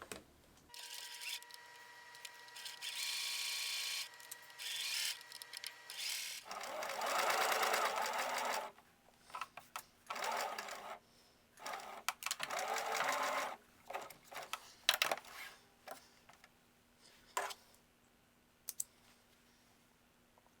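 A sewing machine stitches black skirt fabric, with bursts of motor whir broken by pauses, clicks and handling noises at close range.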